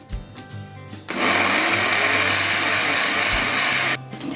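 A blender whirs through a thick vegan mushroom tart filling made with soy milk. After a second of low rumbling it revs into a loud, strained, steady grinding roar that drops off near the end.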